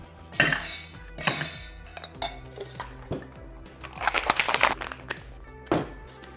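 Ice cubes dropped into a cocktail shaker while mixing a candy corn shot, giving a few bright clinks and rattles. Sharp hits come at the start, a busier cluster follows, then one last clink.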